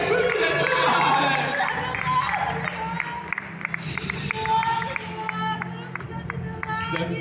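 Congregation applause and cheering at a Sunday church service conference, a crowd clapping with a broad wash of hands and voices under sustained babble and speech, steady in level throughout.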